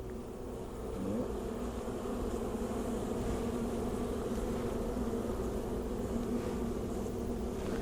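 A steady, close humming drone of many honey bees buzzing continuously on a hive frame, with a faint low rumble underneath.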